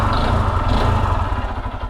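A motorcycle engine with a worn connecting rod runs with a heavy, tractor-like knocking clatter, a steady close rapid pulsing throughout with no voices.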